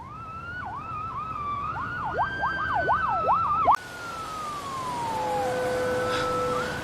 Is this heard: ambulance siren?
yes